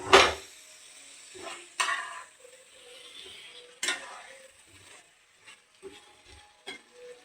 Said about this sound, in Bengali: দেখো আমি মশলাগুলো আমার ভাজা হয়ে গেছে, এর মধ্যে আমি সেদ্ধ আলুটা দিয়ে দিলাম